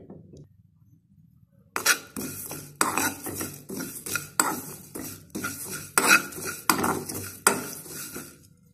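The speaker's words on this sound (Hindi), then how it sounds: "इनको हल्का हल्का सा मैंने इनको भून लेना है" Whole spices are dry roasted in a pan over low flame, stirred with a metal spoon that scrapes and clinks against the pan in repeated, rhythmic bursts after a quiet start, close and fairly loud.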